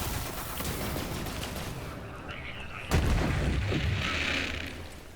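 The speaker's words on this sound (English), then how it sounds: "So we're going to get some nice explosions." Explosions and gunfire in the shooter game Borderlands 3, with the Westergun weapon: a dense, rumbling barrage of booms and crackling shots, one sharp loud blast partway through, followed by sustained rolling blasts, with no talk.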